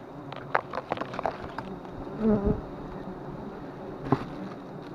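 Bees buzz around a large tree outdoors in a steady drone, with scattered sharp taps and rustles and a louder passing whir partway through.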